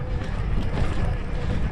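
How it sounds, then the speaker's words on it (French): Headwind buffets the microphone on a mountain ridge during an electric mountain bike ride, a low, rumbling roar of gusting air that stays steady and close for a brief moment without speech. "Un petit vent là, de face."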